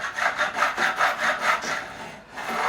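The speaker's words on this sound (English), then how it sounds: "I've still got a little bit more work to do with the more coarse file" A coarse file rasps back and forth across the fret ends of a 2005 Gibson Les Paul during a refret, bevelling them in about seven steady, even strokes before pausing.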